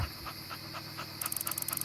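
A small dog pants in quick, soft, rhythmic breaths, close by and quiet, with no talking over it.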